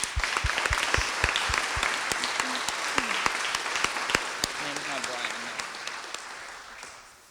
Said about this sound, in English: Just want to give them a round of applause.